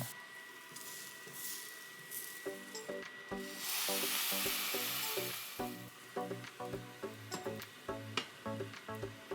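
Lion's mane mushroom sears in a pan, heard as a faint hiss that swells into a brief louder burst, then a run of rhythmic tonal knocks and scrapes as it cooks, with no speech.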